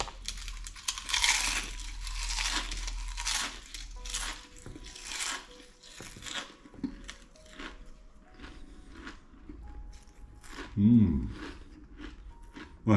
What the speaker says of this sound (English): But when it's balsamic, do the crunch test, Steve, coming up.